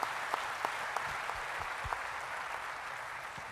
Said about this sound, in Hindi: एक बार जोरदार तालियां उस मैनेजमेंट के लिए होनी चाहिए